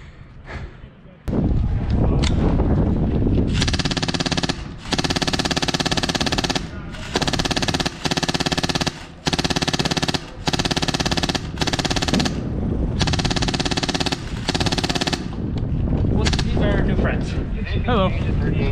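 Airsoft guns fire in rapid bursts during a milsim game outdoors, loud sustained volleys broken by short pauses, with wind noise and voices talking around the shooting.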